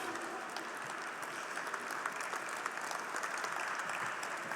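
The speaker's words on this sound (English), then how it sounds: "round of applause for Mr. P.K. Bilsare and Mr. Sanjay Avasthi" Steady applause from a seated audience at a sugar industry convention, dense continuous clapping at moderate distance for the whole stretch with no voices over it.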